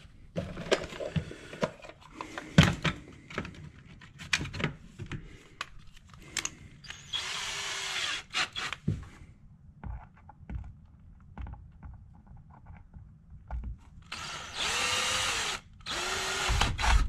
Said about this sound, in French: maintenant je vais percer